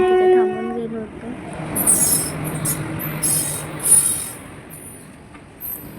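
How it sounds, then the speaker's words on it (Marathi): A goods train passing near a water park, with rumbling wheels, shrill squeals of wheels on rail and a brief horn-like tone at the start, with low talk in the background. "ती मालगाडी होती."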